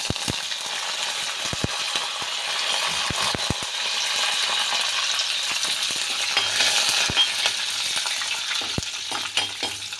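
Mustard seeds temper in hot oil in a Kerala home kitchen. A constant close sizzle is broken by sharp, scattered pops and crackles as the seeds burst, with no speech over it.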